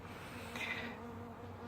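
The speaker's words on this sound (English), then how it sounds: "Because I'm feeding my bees again." Honeybees hum in a soft, steady buzz while being fed, faint and continuous with a slight swell midway.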